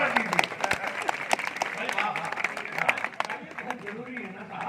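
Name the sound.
audience applause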